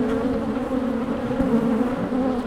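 Honey bees buzz steadily and loudly around their hive box in a yard, a dense continuous drone close by with no talking.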